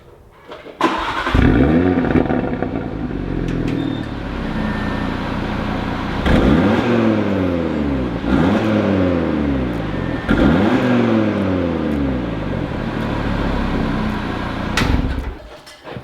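An Audi RS3 with mid pipes and a DCT gearbox starts up, then gives several sharp revs, each rising and falling, over a steady close idle.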